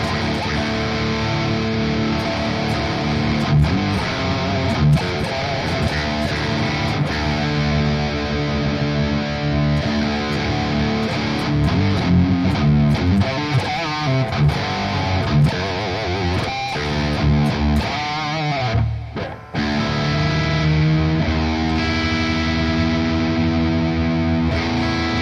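Heavy distorted electric guitar chugging through an amp, loud and dense, with palm-muted riffs and a brief drop near the end before ringing on.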